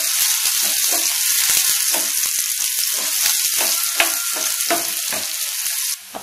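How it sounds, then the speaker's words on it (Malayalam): Shallots frying in hot coconut oil for Kerala fish curry, a loud continuous sizzle broken by repeated scraping strokes of a spoon stirring the pan, close up with no voices, ending abruptly. "ഇനി നമുക്ക് നന്നായിട്ടൊന്ന് മൂത്ത് വരണ വരെ മിക്സ് ചെയ്ത് കൊടുക്കാം."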